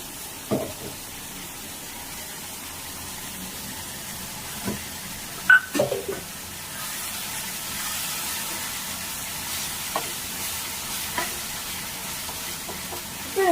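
Green chili and ginger garlic paste sizzle and get stirred in a pan for an anchovy fish curry, a low steady frying hiss broken by scattered scraping clacks of the spoon, with no one talking.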